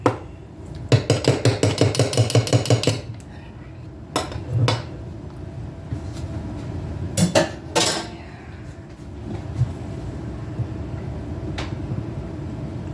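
Stirring a homemade tincture mixture in a container: a quick run of rapid clinking and scraping strokes near the start, then scattered louder knocks and clinks with pauses between them, close by and with no talking.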